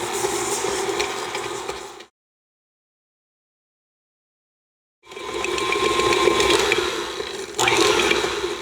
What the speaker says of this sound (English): Now I'm gonna give this a quick spin before we add the peanut butters.